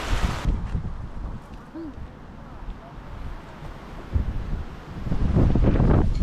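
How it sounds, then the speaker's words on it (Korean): Wind buffeting a microphone outdoors on a holiday drive with a Porsche 981 Boxster, low rumbling gusts that swell and fade, strongest at the start and end, with a voice briefly audible. "오 바람"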